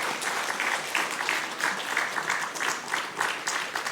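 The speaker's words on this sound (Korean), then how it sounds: "우리를 도와주신 하나님께 영광의 박수를 드립니다" A church congregation applauds during a year-end Sunday worship service, a dense, steady wash of many hands clapping that holds at an even level for the full stretch, with no voices on top.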